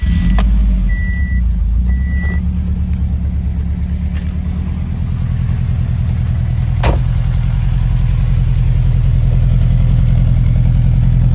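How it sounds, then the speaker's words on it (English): A 2006 Subaru Impreza WRX STI with an SPT exhaust and Cobb downpipe runs loudly and close by on a cold start, a deep steady rumbling idle with a few faint clicks early on. "I'll start it up for you guys."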